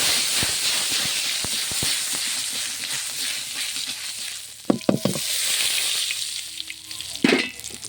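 Mustard paste sizzling and frying in a hot pan, a dense continuous hiss with crackling pops and a few sharp clinks of a utensil stirring.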